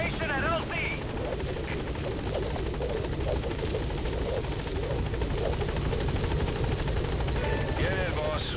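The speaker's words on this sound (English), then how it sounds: "Support helicopter has arrived." Support helicopter arriving in Metal Gear Solid V: The Phantom Pain, a constant dense rotor thrum and engine roar filling the scene, with radio voices speaking over it.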